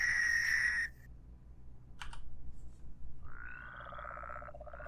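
Frogs croak in the Minecraft Regrowth modpack, a game sound that comes as a short bright call, then a later stretch of steady croaking over faint background game noise, with no one talking.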